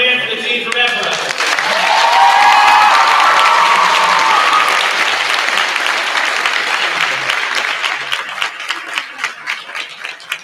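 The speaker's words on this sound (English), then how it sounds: "All right, one more hand for the team from Ephrata." Applause and cheering from a crowd at a volleyball tournament for the Ephrata team, swelling loud and full, then thinning into scattered individual claps near the end, with voices mixed in early on.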